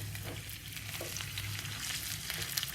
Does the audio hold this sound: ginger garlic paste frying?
yes